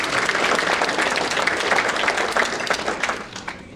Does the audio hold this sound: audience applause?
yes